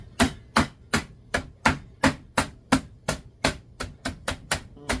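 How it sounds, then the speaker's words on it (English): A meat mallet pounds chicken breasts flat under plastic wrap: about fourteen sharp, close thuds in a steady rhythm that quickens toward the end, with no talking. "I'm going to take my meat mallet and I'm just gonna pound it out flat"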